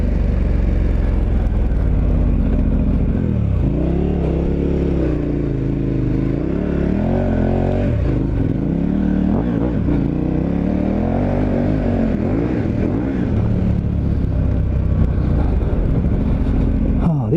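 A dual sport motorcycle climbs a sandy hill, its engine droning loudly and continuously with rising and falling revs and wavering pitch, close to the microphone.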